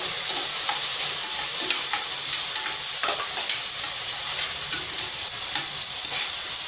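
Tomatoes frying in a pan for chicken biryani give a loud, continuous close sizzle with repeated clicks and scrapes of stirring throughout.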